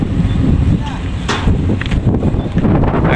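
Strong wind buffets the microphone in a steady, loud roar with gusty bursts, heard around ships passing close on the water.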